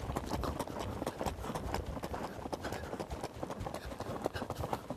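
A horse cantering in a riding arena, rhythmic hoofbeats in a steady rolling three-beat pattern, moderately close and somewhat soft, with faint background noise and possible voice.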